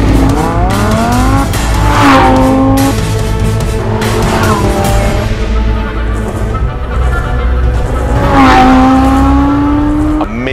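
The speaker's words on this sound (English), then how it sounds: "show you the all new, the brand new Lamborghini Huracan" A Lamborghini Huracan sports car roars past on a racetrack, high-revving engine pitch climbing and falling through gear changes, with tire squeal and a second loud pass near the end.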